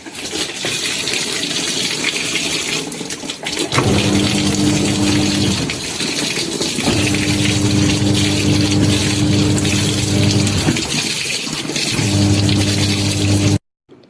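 Tap water rushes steadily into a washing machine, a continuous hiss that is joined by a droning motor-like hum which starts, pauses and returns. No one speaks.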